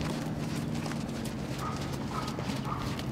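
Horses in a Performance Hunters class walk around a show ring, their hooves giving a steady, soft clip-clop under constant arena background noise.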